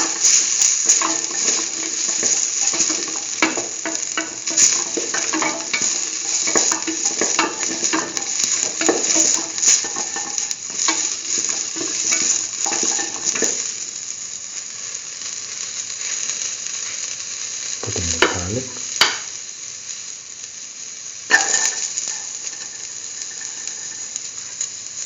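Ginger, shallots and onion fry in a pan for a curried tomato, beetroot and coconut stew. A dense, busy sizzle with stirring clatter carries for about half the clip, then thins to a quieter hiss broken by a few knocks.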